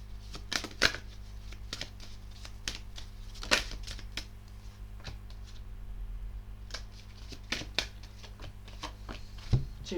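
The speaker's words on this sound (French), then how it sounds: "J'ai eu plein de cartes qui sont tombées" Tarot cards being shuffled and slipping loose, a quiet run of light papery clicks and flutters with a few sharper snaps, close and soft over a steady low hum, with no talking.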